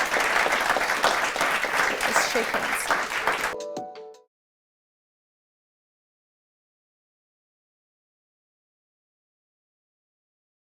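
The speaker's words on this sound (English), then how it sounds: "let's have another round of applause for all of our contestants and our winners" A debate audience applauds contestants and winners with dense, loud clapping that fills the first four seconds before cutting off abruptly into silence, followed by a brief faint tonal sound.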